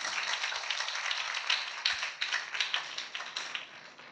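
A church congregation claps steadily for about four seconds, a dense, continuous patter of many hands close by with no voices over it.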